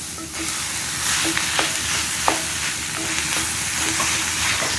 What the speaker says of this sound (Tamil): வெங்காயம், பூண்டு, பச்சை மிளகாலாம் வதக்கிட்டு இப்போ நம்ம சிக்கன் போடுவோம்.